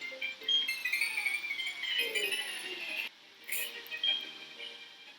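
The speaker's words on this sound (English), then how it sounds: "This is the sound of an Ace Trainer." Pokemon Platinum's Ace Trainer encounter music plays as bright, high chiptune-style melodic notes with a busy pattern, fairly quiet and steady, with a short break midway before the tune continues.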